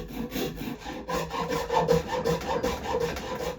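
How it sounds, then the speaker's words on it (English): A hand rasp files the freshly sawn edge of a small wooden wheel for a mini garden wheelbarrow, giving steady back-and-forth rubbing strokes at close range with a coarse, rhythmic scrape. "Then, the cut just needed a bit of cleanup with the rasp."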